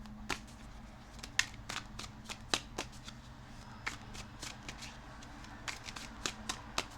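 Tarot cards shuffled and drawn by hand, a steady run of crisp riffling snaps and flicks at close range over a faint low hum, with no voice.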